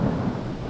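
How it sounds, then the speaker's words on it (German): Deep, loud thunder rumbles continuously during a heavy storm in Croatia, with rain noise underneath and no voices. "es donnert richtig schon ziemlich laut und blitzt die ganze Zeit"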